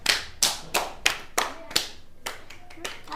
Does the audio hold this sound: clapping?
yes